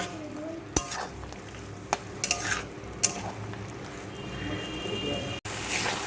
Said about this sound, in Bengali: দিয়ে ভালো করে আমি ঝিঙে আলুর সঙ্গে কষিয়ে নেব